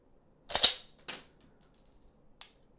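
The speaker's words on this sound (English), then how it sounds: "Chambered a snap cap. Let's pull the trigger." A Shogun Customs F1 trigger is pulled on a chambered snap cap, giving one sharp, loud mechanical snap followed by a few softer clicks as the action cycles, close up with no talk.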